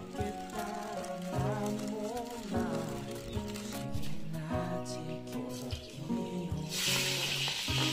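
Scallions, dried chili, Sichuan pepper, fennel and bay leaves stir-fry in a wok for Xuzhou-style pot chicken, a steady close sizzle, with music playing throughout and a brief louder hiss near the end.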